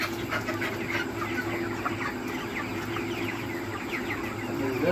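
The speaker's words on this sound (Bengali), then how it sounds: "এবং এই ক্যারেটে করে 10 পিস করে মুরগি রাখতেছি।" Chickens packed ten to a crate for weighing at sale cluck and rustle steadily throughout, a dense continuous flock murmur at close range with no talk.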